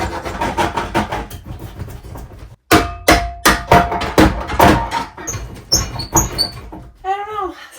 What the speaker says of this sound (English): I'm just gonna saw through the copper tubing back here because I'm never ever gonna use these.